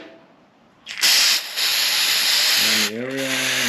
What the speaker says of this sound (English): Spray a bit of brake cleaner around